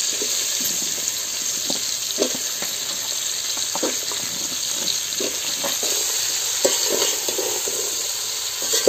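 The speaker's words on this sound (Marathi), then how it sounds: "गरे फोडणे घातल्यावर त्या व्यवस्थित परतून घ्यायचे" Jackfruit flesh is stirred and fried in a spice tempering over a wood-fired stove, with a steady sizzle and repeated scraping strokes of the spoon in the pan.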